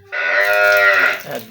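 A desi milking cow, a young two-toothed first-calver, gives a single loud, close moo lasting over a second, rich and drawn out before tapering off.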